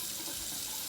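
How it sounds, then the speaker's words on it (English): Water runs from a faucet into a sink in a steady, close, hissing stream for a short moment, with no voices over it. "My hands got soap and water on them. Let me turn off the faucet."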